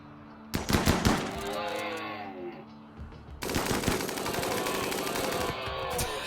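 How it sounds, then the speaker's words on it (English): A minigun fires in RimWorld: two long bursts of rapid, rattling gunfire, the first short and loud, the second sustained and steady after a brief lull, with dense overlapping shots. "It's the minigun."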